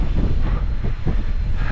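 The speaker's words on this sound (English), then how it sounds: "I think the only thing today that's going to keep the wind off us is the mountain itself." Strong wind roars and buffets the microphone on an exposed Scottish hillside in the Arrochar Alps, a loud, continuous low rumble with gusty swells throughout and no voices.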